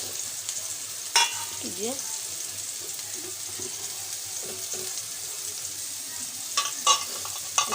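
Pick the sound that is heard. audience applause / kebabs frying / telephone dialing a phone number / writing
kebabs frying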